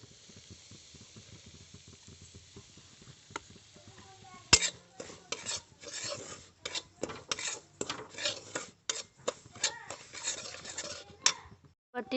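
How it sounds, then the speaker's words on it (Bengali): Semolina frying in oil in a wok as it is stirred, heard as a quiet background hiss that gives way to repeated loud scraping and clinking of the utensil against the pan. "প্রথমে কড়াইয়ে তেল দিয়ে দিয়েছি, সুজিটা ভেজে নেব।"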